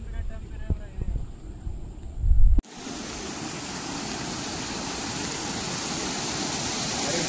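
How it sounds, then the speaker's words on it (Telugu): Water rushes over a check dam at a university campus, a steady broadband roar that begins abruptly partway through. It is preceded by brief close sounds and handling noise, with wind buffeting the microphone. "వాటర్ సౌండ్ వినబడుతుంది."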